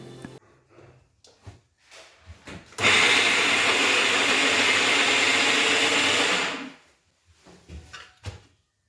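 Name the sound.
mixer grinding coconut chutney ingredients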